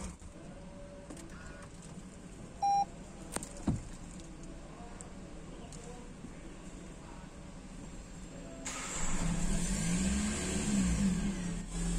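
A 2021 Toyota Corolla Cross Hybrid starts by push button with the brake pressed; faint interior clicks and quiet ambience, then the engine catches near the end and settles into a steady running hum.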